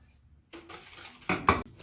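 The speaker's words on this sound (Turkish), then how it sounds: "Evet güzelce malzememizi karıştırdım" A spoon or whisk stirs granulated sugar, starch and flour together in a bowl for éclair cream, with soft scraping at first and then a few louder clinks against the bowl near the end, close and without talk.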